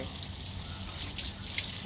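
Steady running water, like a tap or hose flowing, a continuous hiss with faint splashes, fairly close.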